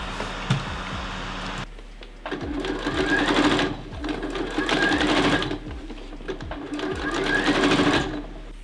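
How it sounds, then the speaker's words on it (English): A sewing machine runs in several bursts, stitching a line to lock elastic in place on a one-shoulder tie top, its rapid needle chatter starting and stopping with short pauses between runs. "now just sewing a line of stitches to"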